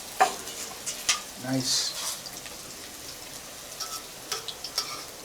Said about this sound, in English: Okay, let it fry.